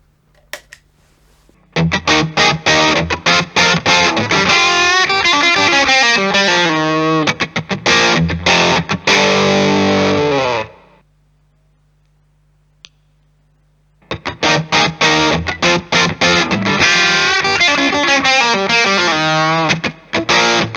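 An electric guitar runs through two Nobels ODR-1 overdrive pedals with the spectrum control at 3 o'clock, giving loud, crunchy strummed chords in two bursts separated by a few seconds of silence.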